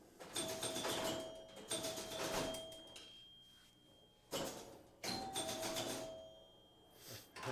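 A Gottlieb 2001 pinball machine rings its chime, giving sustained metallic tones inside bursts of clattering play noise, with a quieter gap between the bursts.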